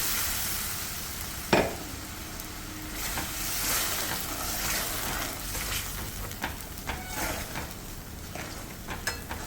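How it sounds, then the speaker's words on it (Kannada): Freshly ground masala dropped into a hot pan for a Hogenakkal-style fish curry, opening with a sharp splash and then a continuous crackling sizzle with stirring scrapes, steady and close with no talking. "ರುಬ್ಕೊಂಡು ಬಂದಿದ್ದೆ ಈ ಮಸಾಲೆ ಹಾಕ್ಕೊಳ್ತಾ ಇದ್ದೀನಿ"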